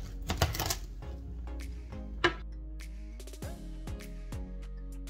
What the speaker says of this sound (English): I don't really measure out my broccoli. Just kind of cut it off the head.